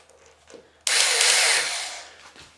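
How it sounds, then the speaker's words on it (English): A power drill drives a screw into a PVC pipe arch, a single whirring burst of about a second and a half that starts abruptly and winds down, close and fairly loud after a few faint knocks. "we're going to put a screw on the opposite side to hold it in there good."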